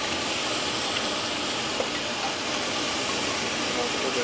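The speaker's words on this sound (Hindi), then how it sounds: "तो इसको हमें ब्राउन होने तक भूनना है।" Onions for chicken bhuna masala sauté in a pan with a steady, moderate hissing sizzle that runs on evenly throughout, with no talk over it.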